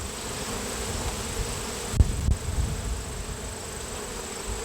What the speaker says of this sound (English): every one of these frames has been just this full of bees